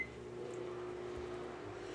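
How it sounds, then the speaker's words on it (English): A microwave oven heating milk hums steadily with a low electrical drone and faint whir throughout, quiet and uninterrupted, with no talk. "We're gonna put it in the microwave"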